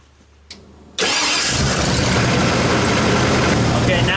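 Ford F-150 engine starting after a starter replacement: a short click, then the starter cranks and the engine catches into a loud, steady idle close by.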